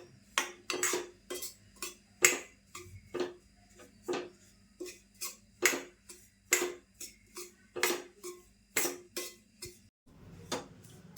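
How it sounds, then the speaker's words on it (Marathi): A spoon scrapes and taps steadily against a pan while green moong flour roasts in ghee, giving a regular rhythm of sharp metallic clinks with a faint low hum beneath. "पीठ आता ना होत आलंय भाजून."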